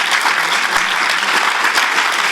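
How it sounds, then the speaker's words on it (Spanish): An audience at a congress applauds in a steady, dense burst of clapping that fills the whole moment, with no voices over it. "Os pido un aplauso para ellos"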